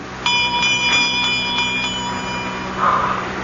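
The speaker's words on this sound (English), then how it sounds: "I'm trying to see where that bell came from." A small bell rings as a radio drama sound effect, a rapid series of bright metallic strikes close up over a few seconds, with no voices.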